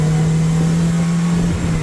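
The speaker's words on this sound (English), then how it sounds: "I hope y'all can hear how loud that engine is." A Polaris Slingshot three-wheeler engine runs loud and close in a sustained, steady drone, its pitch holding nearly constant before dipping slightly near the end.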